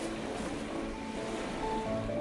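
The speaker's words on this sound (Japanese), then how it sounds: "湖の音が海の音みたいですごく癒されます。" Lake waves lapping at a lakeside campsite, a steady close wash resembling ocean surf, with some wind rumble on the microphone and no voices.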